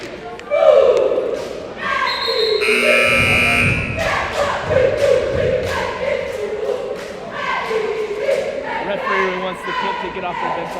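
A loud electronic buzzer sounds for about a second in a crowded school gym, marking the end of the first quarter of a basketball game, over steady crowd noise, sneaker thuds and commentary voices.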